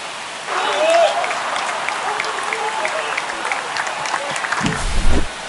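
A stadium crowd in the baseball video game MLB The Show 25 roars and cheers after a home run, a broad sustained wash of noise that swells near the end.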